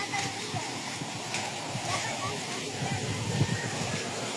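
Irrigation water pours steadily from an outlet feeding a garden of mango trees, a continuous splashing rush heard close, with faint voices in the background.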